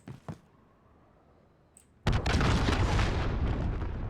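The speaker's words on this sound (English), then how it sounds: "Enemy cruise missile incoming." A cruise missile strike in a military shooter game: a couple of faint pops, then a sudden heavy boom that rolls into a loud, sustained rumbling blast until the end.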